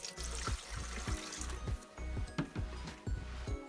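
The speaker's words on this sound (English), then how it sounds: "I'm going to put in about 1/4 cup of distilled white vinegar" Distilled white vinegar pours into an air fryer basket with a soft, close trickle and splash, arriving in uneven spurts with small bubbling and clinks at a low level.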